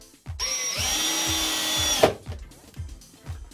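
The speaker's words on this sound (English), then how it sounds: "using the screws provided, fix the 2 parts of your wardrobe together" A power drill drives screws to join two panels of a modular corner wardrobe, spinning in one steady whine for nearly two seconds before stopping, followed by a few loose knocks and thumps of the wooden parts.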